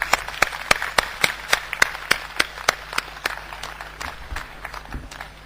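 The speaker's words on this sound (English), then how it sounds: "Can we have a huge round of applause?" Audience applause at a university convocation, heard as a steady series of distinct, evenly spaced claps over a faint background hum, moderately close and continuing throughout.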